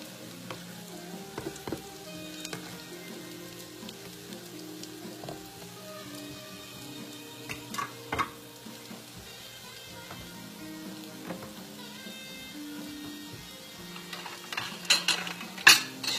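Salmon croquettes fry in a pan, a low steady sizzle running throughout with occasional clinks of a utensil and a busier rattle near the end, no voices.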